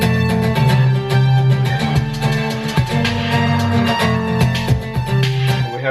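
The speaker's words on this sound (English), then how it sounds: "Here's where the drums kick in as well." Drums entering a full song mix, with steady kick and snare hits driving under layered sustained synths and bass at a consistently loud level.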